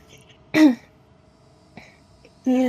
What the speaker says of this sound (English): Doing a bad job at clearing my throat.